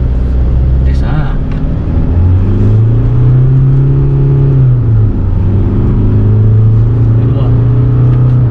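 A 2021 Isuzu D-Max 3.0 X-Terrain pickup accelerates in first gear, its diesel engine note climbing in pitch, holding, then dipping and rising again, loud inside the cab with people talking over it.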